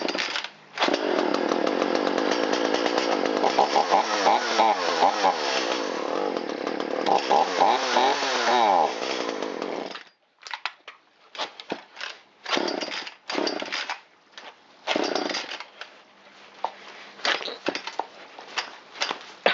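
An Echo CS370 chainsaw engine runs loudly up close for about ten seconds, then sputters and dies when flooded, followed by intermittent rattling starter pulls and clatter.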